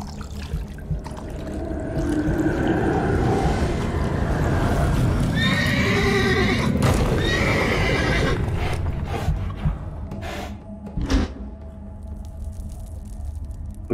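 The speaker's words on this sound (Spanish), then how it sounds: "Tranquilo, caballo." Horse in The Witcher 3 gives a long, loud whinny that rises and trails off, with hoof clip-clops and mechanical game sounds around it, followed by a few sharp clattering knocks.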